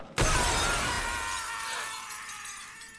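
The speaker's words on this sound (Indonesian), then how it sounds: "kaca-kaca di jembatan itu pecah" Glass panels of a bridge in Squid Game shatter all at once in a loud, sudden crash, then a long trail of tinkling shards fades out.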